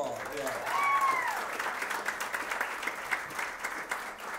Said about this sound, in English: And Shamir and Veronica, give them a round of applause.